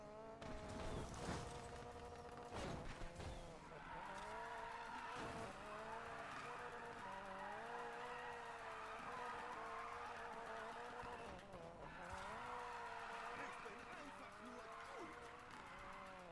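Drifting car in the racing game Need for Speed Payback, with a steady engine roar and long tire squeal sustained throughout, loud and continuous, while someone talks over it.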